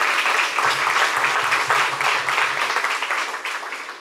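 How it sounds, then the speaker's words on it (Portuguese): A church congregation claps together during a sermon, a dense close burst of applause that holds steady for a few seconds and begins to thin toward the end. "Dê uma salva de palmas ao Senhor Jesus."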